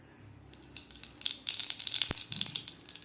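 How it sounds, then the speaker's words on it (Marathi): Mustard seeds drop into well-heated oil and start to crackle and spatter, the fizzing pops growing denser and louder midway, close up, with no voices. "तेल आपलं व्यवस्थित गरम झालेलं आहे यामध्ये घालायची आपल्याला मोहरी"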